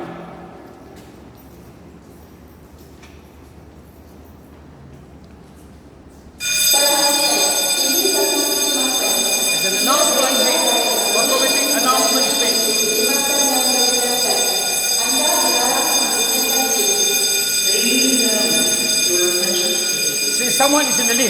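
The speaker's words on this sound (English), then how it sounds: "We're triggering the fire alarm now." A building fire alarm triggered during a test, with the lift switching to fire alarm mode: after about six quiet seconds a loud, steady electronic ringing alarm starts and continues to the end, with faint voices beneath it.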